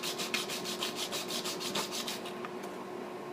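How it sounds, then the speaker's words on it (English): A guitar nut is rubbed back and forth on sandpaper in quick, even strokes, a close, steady rasping rhythm that stops near the end, with no talking. "So you just want to lay the nut on the sandpaper and just go back and forth."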